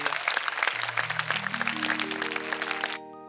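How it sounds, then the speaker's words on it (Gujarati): Audience applause at a religious discourse gathering on the Shrimad Satsangijivan katha, a dense burst of clapping that carries on steadily for about three seconds, then cuts to a sustained musical tone. "એકવાર જોરદાર તાળીઓના ગડગડાટ સાથે વધાવી લઈએ."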